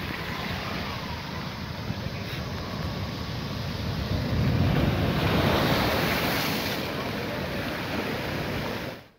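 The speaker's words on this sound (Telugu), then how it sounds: "ఉప్పాడ మాయపట్నం సుబ్బంపేట వరకు అలలు ఎగసి పడుతున్నాయి." Storm surf surges at Uppada beach on the Kakinada coast during Cyclone Remal, a steady roar of breaking waves with gusting wind buffeting close by, swelling louder midway and continuing unbroken with no voices.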